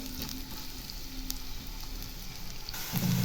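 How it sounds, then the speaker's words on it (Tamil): Onions sautéing in a pan with a little fennel seed for bread upma, a steady close sizzle and crackle throughout, swelling briefly louder near the end, no voices. "வெங்காயத்தை நல்லா வதக்கிடலாம்."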